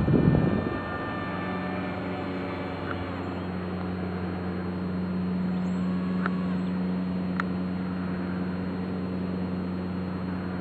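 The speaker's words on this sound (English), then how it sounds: "now let's take that same pass with flaps on" A small RC Sky Surfer model airplane with flaps lowered drones past outdoors, its electric motor giving a steady, moderately loud whine that holds level before easing slightly, with no talk.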